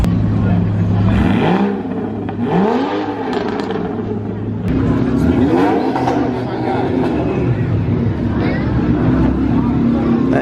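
An Acura NSX revs repeatedly at a car meet, its engine rising and falling in loud sweeping pitch bursts, with people talking nearby amid other engine noise.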